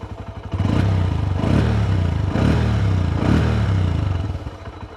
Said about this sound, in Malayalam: ഇതിൻ്റെ എക്സോസ്റ്റ് നോട്ടും അങ്ങനത്തെ കാര്യങ്ങളൊക്കെ നല്ല സ്വീറ്റാണ് ഞാൻ ജസ്റ്റ് ഒന്ന് കേൾപ്പിച്ചു തരാം സിംഗിൾ സിലിണ്ടറാണ്